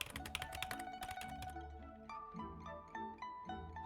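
Typing on a cheap, regular wired Logitech keyboard, a quick run of close, fairly quiet plasticky key clicks that slows into scattered, separate taps.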